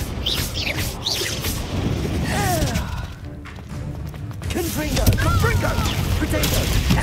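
Blast of the Confringo fire spell in Hogwarts Legacy, a booming hit and crash in the thick of combat noise, with voices shouting over the clash.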